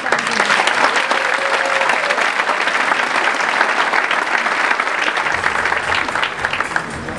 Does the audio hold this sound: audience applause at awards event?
yes